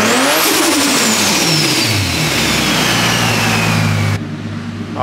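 A turbocharged car engine fitted with a Pulsar GTX3575R turbo revs loudly up close, the pitch climbing and falling before settling into a rough, throaty idle.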